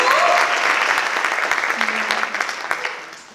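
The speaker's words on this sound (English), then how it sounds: "You can give a round of applause." An audience in a grand ballroom at a story night applauds in a loud, full burst of clapping that gradually thins and fades over a few seconds.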